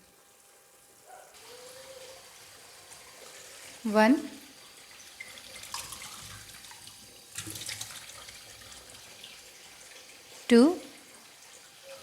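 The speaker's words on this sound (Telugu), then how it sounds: "ఈ 7 గ్లాసులు వాటర్ తీసుకోవటం వల్ల అన్నం అనేది చాలా పొడి పొడిగా వస్తుంది" Glasses of water are poured into a pot for basmati rice in a coriander pulao, two short splashing pours a few seconds apart, with a voice counting between them over a quiet kitchen background.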